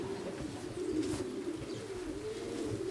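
Racing pigeons coo at a loft while awaiting arrivals from a race, a low rolling cooing that repeats steadily throughout, close and moderately loud over faint outdoor ambience.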